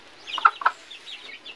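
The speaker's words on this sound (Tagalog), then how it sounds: "purong labuyo po ito, na matagal ko na ding alaga tong manok na to" A purebred red junglefowl rooster gives a few short, close clucks in quick succession, then quieter chattering clucks trail off.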